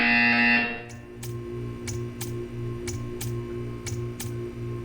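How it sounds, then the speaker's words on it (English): A short electronic buzz from the game Portal 2 pulses repeatedly in an even rhythm, with sharp clicking ticks between pulses, after a brief tone at the start. "When you hear the buzzer, stare at the art."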